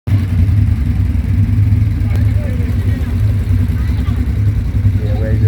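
A steady, loud engine drone with strong low rumble runs throughout, consistent with an ATV engine running and revving close by, with voices mixed in.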